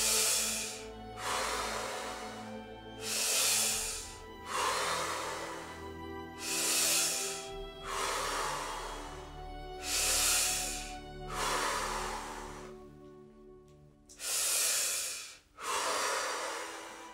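Deep, guided Wim Hof breathing: about eight long, forceful breaths in and out follow a steady rhythm, each a loud airy rush close to the mic, separated by short pauses.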